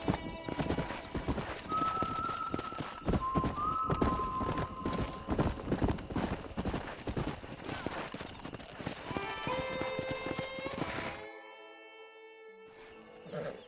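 Horses clip-clop along at a steady trot in the Red Dead Redemption video game, hooves loud and close with a whinny or two, before the hoofbeats stop and quieter game ambience takes over near the end.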